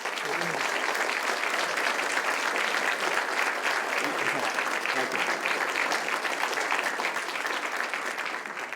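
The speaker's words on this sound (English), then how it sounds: "I always ask for the first round of applause to be for the hardworking patrol officers of the Livingston Police" Council meeting audience applauding the patrol officers of the Livingston Police Department, a sustained dense round of clapping that holds steady for several seconds and tapers slightly at the end.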